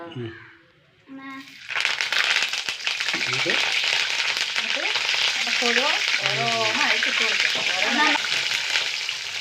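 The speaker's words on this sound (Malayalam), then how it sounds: "ചൂടാവട്ടെ കറിവേപ്പില ഇട്ട് കൊടുക്കട്ടെ" Curry leaves dropped into hot oil in a Kerala home kitchen crackle and sizzle loudly and steadily after a brief quiet start, with a person talking over the frying.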